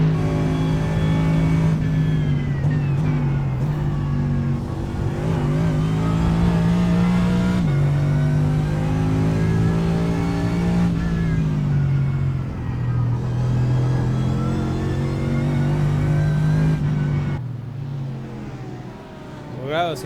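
Race cars in a Mercedes SLS GT3 racing video game roar loudly and continuously, engine tones rising and falling as several cars pass close by over about twenty seconds.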